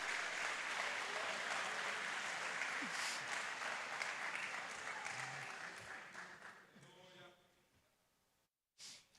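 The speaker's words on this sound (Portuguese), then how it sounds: "Aplauda se você quiser aplaudir" A church congregation applauds during a sermon, a dense and sustained clapping that gradually thins and fades out, followed by a short burst of sound at the very end.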